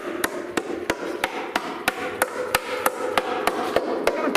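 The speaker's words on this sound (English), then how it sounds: "You want to just tap the pan? Up top, yeah, up top by the rail." A hammer taps on the oil pan of a small-block Chevy engine, giving about fourteen sharp, evenly spaced metallic knocks, close and fairly loud over a low background hum.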